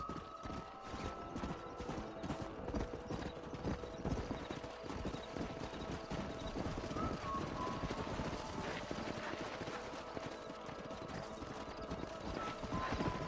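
Steady clip-clop of several horses galloping in Red Dead Redemption, dense hoofbeats continuing throughout with a busy background and no talking.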